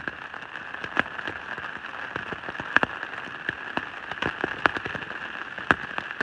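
Steady rain patters on a surface outdoors at night, with scattered louder drops tapping close by over a constant hiss.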